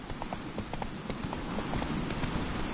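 Roach, the horse in The Witcher 3, gallops in a steady, rapid clip-clop rhythm of hooves, close and clear over a busy ambient background.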